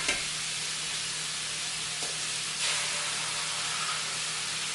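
An egg fries in a pan with a steady, bright sizzle and hiss that holds throughout, with a slight swell partway through.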